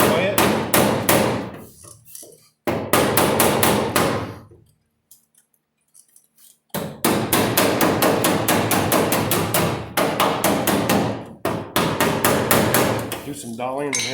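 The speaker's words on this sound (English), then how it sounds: "Do some dollying and hammering and it'll just fold right in there for you." Hammer and dolly beating a rusty body panel on a 1978 Camaro: dense, rapid runs of loud metallic strikes, broken by a short quiet pause before the hammering resumes just as quickly and keeps going.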